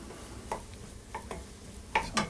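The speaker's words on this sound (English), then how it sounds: "I'll cook the garlic in there with the meat and the vegetables." Minced garlic cooks in a pan with meat and vegetables for baked pasta and beans, a soft sizzle broken by a few brief stirring scrapes, close up and fairly quiet.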